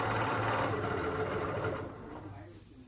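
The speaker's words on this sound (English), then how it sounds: "I'm going to use my ruler and I'm going to stitch a straight line" A sewing machine runs steadily as it stitches a straight line guided along a ruler, a close, continuous motor whir that fades a little toward the end.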